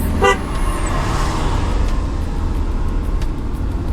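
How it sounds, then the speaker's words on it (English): A single short, loud car horn honk sounds at the very start during a night drive on the road from Bangalore to Karwar, then gives way to a steady rumble of engine and road noise. "Honk at him."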